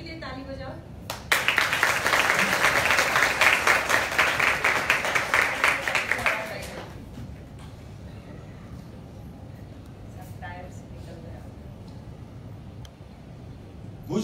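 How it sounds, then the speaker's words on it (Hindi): A church congregation claps together in a dense burst of applause lasting several seconds, then it dies away to quieter room sound and distant voices. "ताली बजाओ।"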